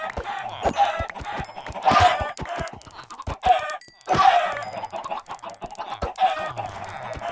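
Video game chickens cluck and squawk repeatedly in a busy, overlapping flock chatter, with bursts of louder cackling throughout.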